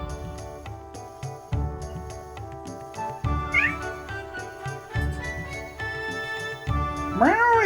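A cat meows repeatedly and loudly, several drawn-out rising cries close by, with faint jingling and a low background hum between calls.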